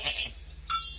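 Goats bleating in a Basque pastoral scene, two short, close, nasal bleats separated by a brief pause, loud and clear.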